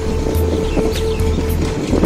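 A Honda CB300F motorcycle idles in neutral on an outdoor ride, its low steady engine hum nearly buried under loud, gusting wind buffeting the microphone.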